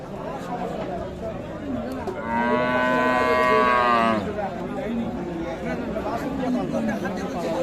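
A loud, drawn-out moo from Sahiwal cattle rises over the busy chatter of a crowded livestock market, with people talking throughout.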